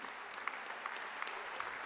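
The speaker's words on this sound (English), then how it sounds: "Really don't have time for applause." Audience applause at a university graduation ceremony, a steady wash of many hands clapping from a large crowd, fairly faint and even throughout with no speech over it.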